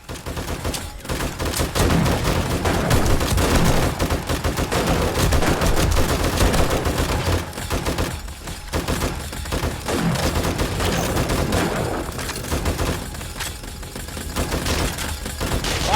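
Automatic turret firing in 7 Days to Die, dense rapid bursts of loud gunfire that run almost continuously, with brief pauses between volleys.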